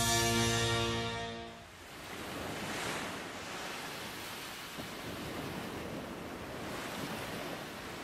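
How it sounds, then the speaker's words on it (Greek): Sea waves wash and surge continuously in the Beyblade Metal Masters cartoon, a broad steady roar with a swell in the middle, after a short musical tone at the start. "Η γαλάζια θάλασσα"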